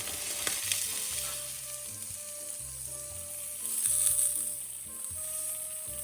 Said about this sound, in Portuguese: Grelhar bem dos lados.